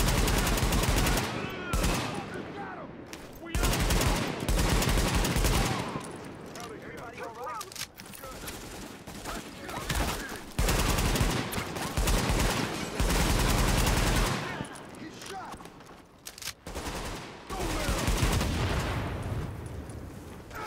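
Rapid automatic gunfire in the video game The Division, loud close bursts repeating in several volleys separated by short gaps, with someone talking in between.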